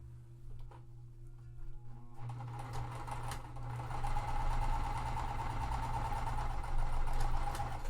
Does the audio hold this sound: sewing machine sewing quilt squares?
yes